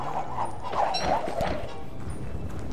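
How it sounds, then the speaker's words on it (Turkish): A hound barks in the survival video game Don't Starve, a few sharp yaps and growly barks clustered in the first second and a half, loud over a steady game background with no talk. "Köpek."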